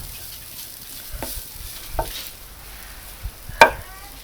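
Chicken mixture being stirred in a frying pan gives a soft steady sizzle with occasional scrapes and a sharp utensil knock near the end, close up.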